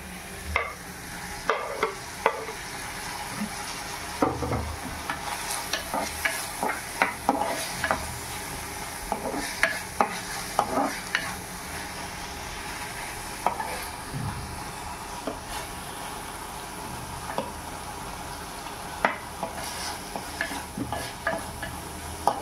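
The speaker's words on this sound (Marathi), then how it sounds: "टमाटो पण थोडा सॉटे करूया, थोडा कुक होऊन देऊया." Tomato and onion sauté in a pan for an Indian mushroom and baby corn dish. A spoon repeatedly scrapes and stirs over a soft, steady sizzle, with no voices.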